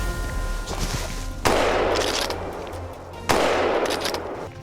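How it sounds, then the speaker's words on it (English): Two loud gunshots fired at wild boars on snowy ground, each a sharp crack followed by a long reverberating tail, spaced about two seconds apart over a steady low background rumble. "A gunshot cracked through the frozen air."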